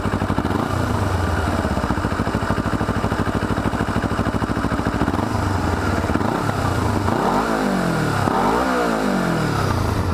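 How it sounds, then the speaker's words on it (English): A 2008 Kawasaki Ninja 250 with a totally stock exhaust idles close by with a steady buzzing putter, then is revved several times, the pitch sweeping up and falling back with each blip. "So this is the totally stock exhaust on a Ninja 250."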